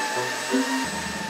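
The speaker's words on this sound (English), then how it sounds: "if you take a vacuum and put it to your neck" A vacuum cleaner runs steadily with a constant drone, its pitch shifting once or twice as the motor load changes, close and continuous with no talking.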